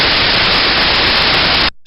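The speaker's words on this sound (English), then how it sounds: "this is a sound recording of a bearing being lubricated" A lubricated bearing, heard through an ultrasound maintenance detector, gives a smooth, uniform, loud hiss like steady static that runs unchanged and then cuts off abruptly near the end.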